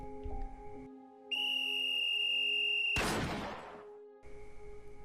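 A single sharp, high whistle blast cuts in and holds steady for nearly two seconds, followed by a burst of noisy clatter.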